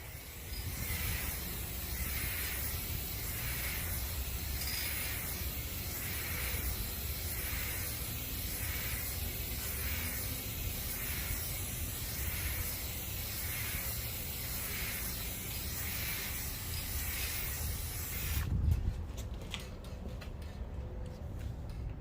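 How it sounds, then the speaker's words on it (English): Clear coat sprayed over a repaired car paint chip: a faint, close hiss pulsing in regular short bursts, then cutting off near the end. "That's the first coat, clear coat."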